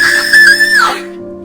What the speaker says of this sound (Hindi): एक चीख अंधेरे को चीरती हुई आ रही थी